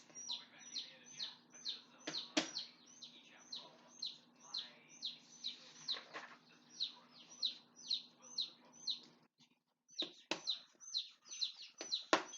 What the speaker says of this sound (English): you're probably hearing the little birds in the background